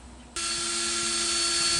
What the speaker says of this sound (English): Drill 3 pilot holes and use 1-inch screws to hold it tight.